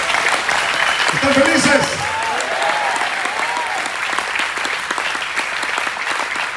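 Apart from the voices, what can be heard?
applause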